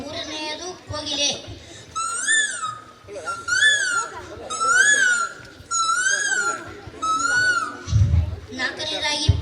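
At a school talent show a child imitates a cuckoo with about six clear, whistled two-part calls at an even pace, close to the microphone, with short bursts of voice at the start and end.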